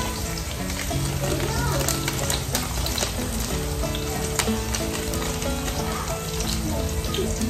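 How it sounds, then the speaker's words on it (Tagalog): Onion and bay leaf sauté in a hot pan, a steady, loud, close sizzle and crackle that continues without a break throughout. "Gisa natin par."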